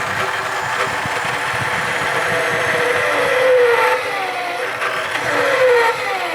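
A homemade drill press motor runs steadily at mid-range speed, giving a continuous mechanical whir with a faint rising whine, fairly close and loud throughout with no talk.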